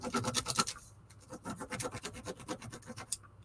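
A crayon of wax is rubbed back and forth over a textured plastic texture plate, giving close, dry, rhythmic scratching strokes that pause briefly midway, with no talking.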